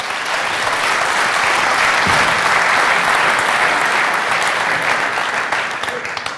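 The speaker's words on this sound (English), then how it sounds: "applause for Jen Simmons" A conference crowd at CSS Day 2017 gives loud, sustained applause for speaker Jen Simmons, a thick, steady roar of many hands clapping close by that eases off slightly near the end.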